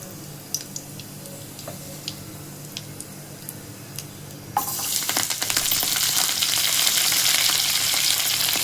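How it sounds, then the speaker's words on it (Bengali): Black cumin seeds hit hot oil with a sudden, bright sizzle after a few light ticks and clinks, the frying then holding a dense, close crackle. "তেলের মধ্যে আমি একটু কালো জিরে দিয়ে দিলাম বন্ধুরা"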